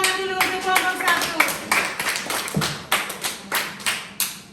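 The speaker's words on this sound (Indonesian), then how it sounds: "kita tepuk tangan dulu untuk kelompok" A classroom group claps for a student group after its presentation, a burst of scattered hand claps that settles into a few distinct slaps, with speech-like voices faintly underneath.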